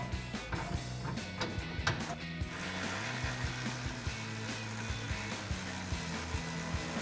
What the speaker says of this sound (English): grab our 10mm socket to tighten down that bolt